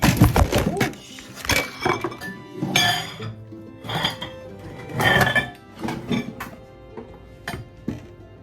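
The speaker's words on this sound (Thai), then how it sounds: "ขากล้องล้มค่ะ" A camera tripod topples over in a home kitchen, setting off a rapid clatter of knocks, clinks and thuds that comes in uneven bursts over several seconds, close and loud.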